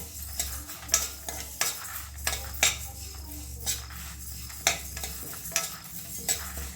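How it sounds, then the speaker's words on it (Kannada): Dal and fenugreek seeds frying in a pan for sambar, a low steady sizzle broken by regular clinks and scrapes of a spoon stirring against the metal, close and without voices. "ಒಂದು ಸ್ಪೂನ್ ಬೇಳೆ ಮೆಂತ್ಯ ಇದು ಎಲ್ಲ ಫ್ರೈ ಆಗಬೇಕು"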